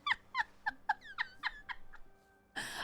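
A human voice imitates an eagle call, a run of about nine sharp, yelping, rising-and-falling cries in quick rhythm, close and clear, ending in a brief burst of breathy noise.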